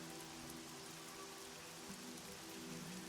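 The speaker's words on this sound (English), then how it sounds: "you step out into the rainy night streets of Augusta Emeritus." Steady rain pattering on surfaces through a night street ambience, a constant close wash of drops with a low hum underneath, no voices.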